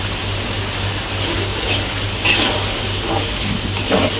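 Fried mackerel slid into a pan of simmering soy sauce for a chili soy fish dish, giving a steady close sizzle and bubbling hiss with soft clinks and stirring noises throughout.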